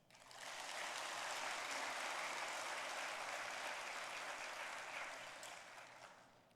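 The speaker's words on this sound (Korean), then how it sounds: "박수 한번 해줘요" Congregation applause in a church service, a steady wash of many hands clapping that swells quickly, holds for several seconds and fades at the end, moderately distant.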